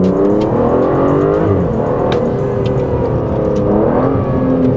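Aston Martin DBS Superleggera engine roaring under acceleration, a steady loud, close drone with rising pitch sweeps, no talking.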